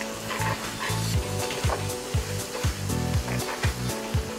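Onions stir-fried in a pan until overcooked, a close, steady sizzle broken by rhythmic scraping and tossing strokes that come about every half second.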